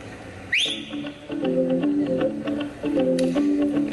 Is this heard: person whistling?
yes